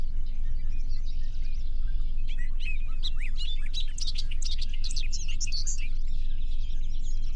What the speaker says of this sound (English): So this is what a Bobo Link is.